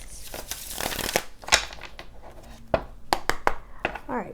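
Tarot cards being shuffled by hand, a run of quick papery riffles and sharp flicks with brief pauses between bursts, close to the microphone.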